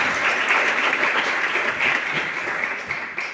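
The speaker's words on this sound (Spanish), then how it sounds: "Otro aplauso." Warm, sustained applause from a festival audience at a literary conversation event, a full room of hands clapping evenly for a few seconds before tapering slightly near the end.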